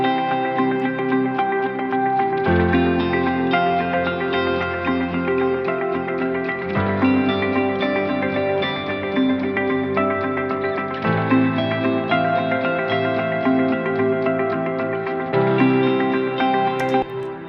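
An early stock music composition drenched in Valhalla Supermassive reverb and echo, with sustained layered synth chords and a low bass that shifts every few seconds, dense, washy and continuous, with no voices.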